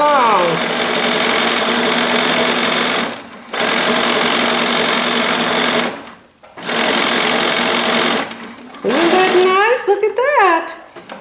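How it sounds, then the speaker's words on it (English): A sewing machine stitches a sleeve in long, loud, steady runs broken by brief stops, with a final stretch of shorter, faster bursts as the stitch length changes, heard up close. "And then I turn it down to a real tiny stitch, and I back stitch, and I forward stitch, and I cut."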